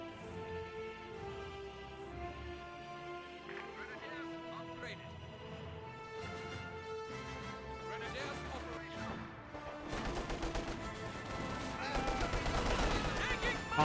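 Rattling bursts of rifle and machine-gun fire from Soviet conscripts and guards in the real-time strategy game Company of Heroes 2 crackle under music and talk, growing denser and louder toward the end.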